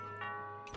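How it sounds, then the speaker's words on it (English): Doorbell chime in the adventure video game Thimbleweed Park, a short faint tonal ding ringing out alone with a soft click near the end. "That sounds like the doorbell."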